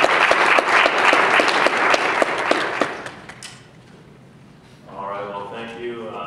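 Audience applause welcoming a speaker to a talk, loud dense clapping for about three seconds that thins and fades, then a voice begins speaking.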